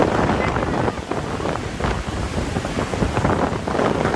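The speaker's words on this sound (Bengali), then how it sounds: "বাংলাদেশের উপকূলে বাতাসের প্রবল গতিবেগে লন্ডভন্ড পরিস্থিতি তৈরি হয়েছে উপকূলীয় এলাকাগুলোতে" Strong gusts from Cyclone Remal buffet the microphone on the Bangladesh coast, a loud, continuous roar with surging bursts, and the crash of heavy surf blends into the storm noise.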